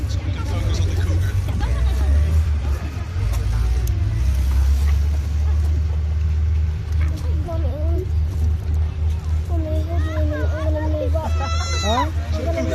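A Canadian Cougar six-wheeled armored vehicle, based on the Swiss Mowag design, drives around an arena with a deep, steady engine rumble and pulsing drone. Voices and crowd chatter carry over it.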